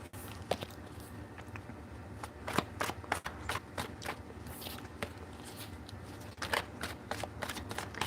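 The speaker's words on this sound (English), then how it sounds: "Shuffle these, put them aside" Tarot cards being shuffled by hand close up, with soft riffles, slides and scattered crisp taps at a quiet level and no speech.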